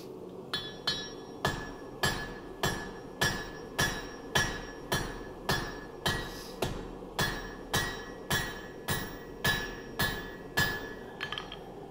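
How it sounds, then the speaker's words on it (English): A steel knife blade is forged by hand with a hammer, about sixteen loud, evenly spaced ringing metallic strikes on the workpiece, each with a bright clink and short decay, with no talking. "Hammer."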